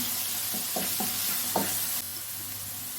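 Ground green chilli paste frying in a pan for palak chicken curry gives a steady, close sizzle, with a few scraping stirs in the first half and an unbroken hiss after.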